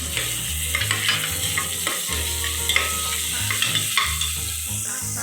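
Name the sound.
tomato added to frying onion and stirred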